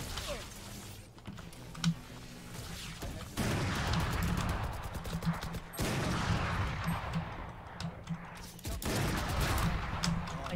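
Rapid gunfire bursts in the shooter game Valorant crackle sharply in several clusters, some loud and close and others fainter, with brief gaps between volleys and a voice speaking over parts of it.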